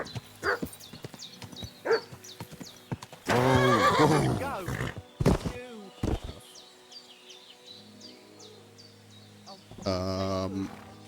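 Dogs and a horse in Kingdom Come: Deliverance II, set in medieval times. Several sharp, close barks come in quick bursts, followed by a loud, dense flurry. Later, a long whinny rises and falls near the end, with brief human vocal sounds mixed in.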